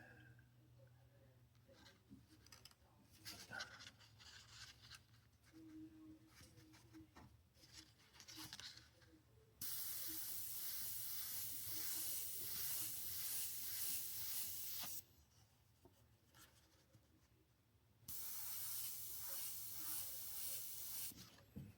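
An airbrush sprays Createx paint onto synthetic paper in two long, steady hissing bursts, preceded by quieter pattering, brief spritzes and faint handling sounds close by.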